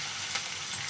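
A piece of garlic dropped into hot oil in a wok gives a brief, steady hiss of sizzling frying with no voices.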